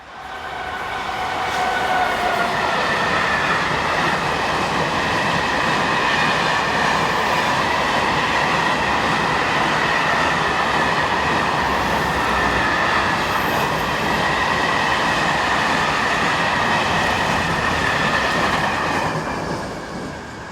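Locomotive 36331 hauls a through freight train from Italy, running from Modane to Dijon, past the listener with a steady, loud rolling roar and faint clickety-clack of wagons that persists for about twenty seconds before easing slightly.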